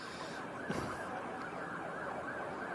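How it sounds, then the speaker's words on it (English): Distant sirens of a presidential motorcade arriving in Wheeling wail faintly beneath a constant background hum, the rising and falling tone carrying through without any talk. "we do hear some sirens now"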